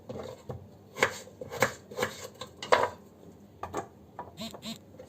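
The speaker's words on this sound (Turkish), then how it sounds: "patatesleri dilimliyoruz" Knife slicing potatoes on a board for oven-baked chicken chops, a run of sharp crisp cuts in uneven rhythm, close and moderately quiet, with a pause before a few more strokes.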